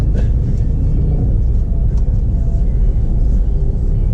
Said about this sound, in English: I'm just making sure no one's behind me when I'm reversing.